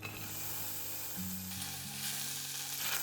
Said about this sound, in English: I stir fry it until it becomes tender.